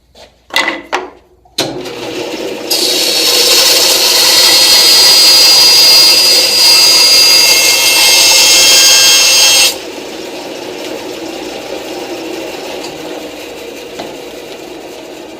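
A bandsaw resawing wood into thin veneer-like slices: after a few knocks the motor starts, then a loud, steady, high-pitched cutting whine lasts several seconds before easing back to the machine's lower running hum.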